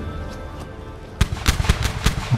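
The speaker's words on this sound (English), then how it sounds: "Oh, I'm gonna have a super broadside here." A pirate ship fires a cannon broadside in a video game, a quick ragged volley of about eight booming shots after a second of low ambient rumble, fairly loud and close.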